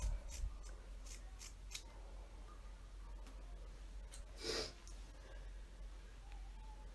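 Scissors snip through the ends of an old wig's hair during a trim, giving a few soft, faint cuts and rustles in a quiet room, with one clearer snip near the middle.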